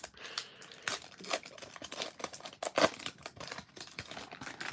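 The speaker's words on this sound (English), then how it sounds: "So we'll open up one of these packs here" Crinkling and tearing of a foil pack of 1990s baseball cards being opened, close and crisp, with a run of rustling crunches and one sharper rip partway through.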